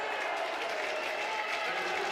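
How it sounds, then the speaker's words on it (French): Rink hockey supporters applaud at a Coupe de France final, a steady wash of distant crowd clapping that stays even and continuous throughout. "Applaudissements"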